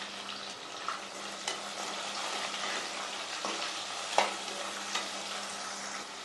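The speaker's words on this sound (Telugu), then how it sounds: "అలా ఉల్లిపాయ ముక్కలు వేగుతా ఉండగానే" Chopped onions sizzle steadily in hot oil, with occasional scrapes and clicks of a spatula stirring the pan.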